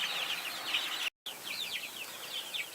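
Chickens cluck and chirp in a steady chorus nearby, overlapping calls with a brief dropout of silence in the middle.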